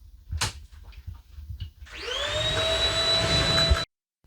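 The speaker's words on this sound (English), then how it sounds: "my bride is vacuuming," A vacuum cleaner starts up after a few soft knocks, revs to a steady loud whine with a rising pitch, runs for about two seconds, then cuts off abruptly.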